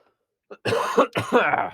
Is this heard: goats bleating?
no